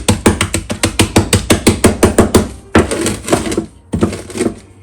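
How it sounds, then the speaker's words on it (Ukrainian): Rapid, regular crunching cracks from crushing pieces of flavored salt in a zip-lock bag with a rolling pin, about a dozen sharp strokes in a row, then a few rougher grinding bursts. "Та за допомогою качалки подрібнюю."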